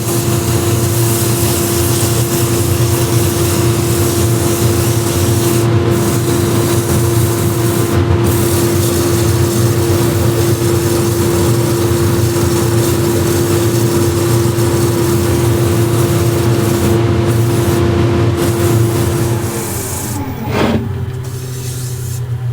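Someone sands an Osage orange wood plate with a loud, continuous powered whir and steady tone that carries on without break, then shifts and drops briefly near the end.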